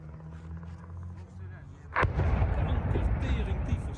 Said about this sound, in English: Explosions rang through the Ukrainian city of Dnipro amid a reported Russian attack early Thursday.